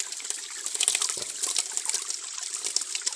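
A clear village stream runs with a continuous close rush of bright, splashing water that trickles and gurgles without pause.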